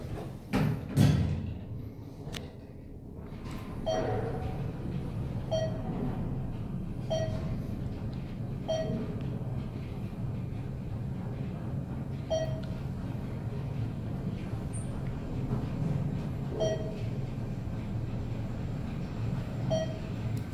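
A 2016 ThyssenKrupp traction elevator in Bellevue, WA runs with a steady low rumble and hum. Soft, evenly spaced beeps sound roughly every second and a half throughout.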